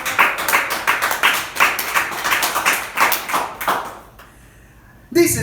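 A church congregation claps together in a steady, rhythmic stream of loud hand claps for about four seconds, then stops into near quiet before a voice briefly picks up again.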